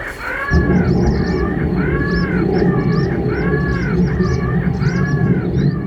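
Recorded distress call of a crow played through a loudspeaker to scare birds off a military airfield runway: a loud, harsh, repeated cawing in a regular rhythm, about six cries over a steady low hum, with no talking.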